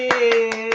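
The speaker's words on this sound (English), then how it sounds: "Applause, everybody." Four single hand claps in a steady, even rhythm, close and crisp, sounding over a constant electronic tone.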